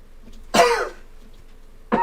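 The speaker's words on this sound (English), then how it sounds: "Man, I'm coughing a lot." A person coughs twice, close and sharp, with a short quiet pause between the two harsh bursts.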